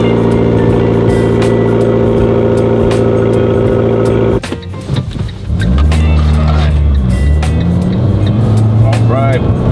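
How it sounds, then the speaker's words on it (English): A 2013 Fiat 500 Abarth engine on a cold start: a loud steady idle hum, a brief dip as it catches, then a surging high-revving growl that wavers and settles into a rough, elevated idle. "So here's a cold start on my 2013 Fiat 500 Abarth."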